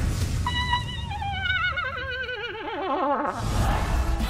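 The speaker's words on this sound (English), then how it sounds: "if you slow down, her scream actually sounds like this." A woman's scream played slowed down, a long wavering, descending wail with a strong vibrato that resembles a horse's whinny, heard over steady background crowd noise.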